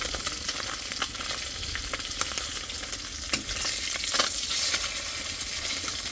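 Onion and dried chili sizzle loudly in a pan, a continuous crackling fry broken by small pops and stirring scrapes, with no talking.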